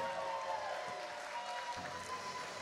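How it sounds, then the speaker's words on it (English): Wedding celebration audience applauding the maid of honor and best man, a steady wash of clapping with some cheering, moderately distant and continuous through the short stretch. "Let's have a nice round of applause for our maid of honor, Taylor, and our best man, Bradley."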